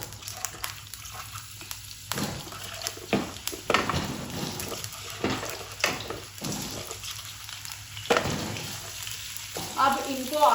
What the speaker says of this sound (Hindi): अब इनको आपने फ्राई करना है कि इनकी शक्ल चेंज हो जाए आलूओं की